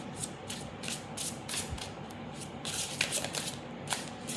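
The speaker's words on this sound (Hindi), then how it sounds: "वन मोर शफलिंग में देखती हूँ मैं" Tarot-style cards are shuffled close up, a soft, rapid riffling with repeated flicks over a few seconds and no speech.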